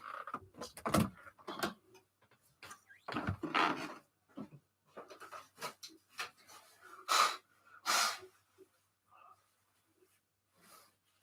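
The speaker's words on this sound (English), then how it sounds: "I'm just going to blow my nose a second." A person blowing their nose during a casual chat stream, several short breathy snorting bursts spaced irregularly, close to the microphone and fairly quiet, with brief pauses between blows.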